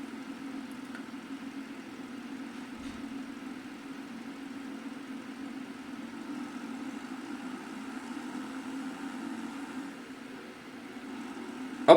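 A Challenger tractor engine in Farming Simulator 25 runs at a steady low idle, a continuous even drone with no talking over it.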